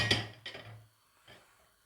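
A metal pan is set onto the stove in two quiet clunks, the first ringing briefly, followed by a faint scrape in an otherwise still kitchen.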